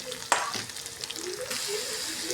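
Green chilies, garlic and onion frying in oil, a sharp clatter as ingredients drop in, then a steady close sizzle with faint stirring scrapes.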